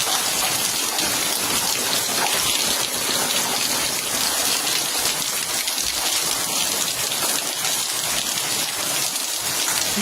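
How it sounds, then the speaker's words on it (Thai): Light rain falling steadily, a continuous fine patter and hiss of drops on surfaces, close and even throughout, with no voices. "ฝนตกฝนตกฝนตก ตกไม่แรงแต่ก็โคใช้ได้"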